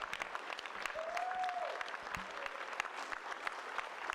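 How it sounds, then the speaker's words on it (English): Faint applause from an audience at a live televised event, a soft spread of clapping with a brief whistle-like tone rising over it early on, heard from a distance and without speech. "Can we give Anu a round of applause,"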